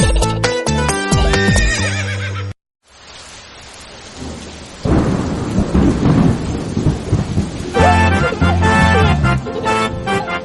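A horse whinnies amid rumbling thunder and rain in a Bengali children's rhyme collection, with loud sung music before and after.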